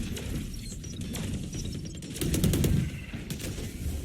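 Bursts of rapid gunfire from a Valorant esports match, with sharp repeated shots and a heavier volley midway over a busy game background.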